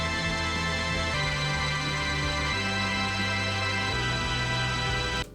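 Full, rich synth chords with three added upper notes and bass notes move through four sustained changes, each held for over a second, with a steady loud level until a sudden stop.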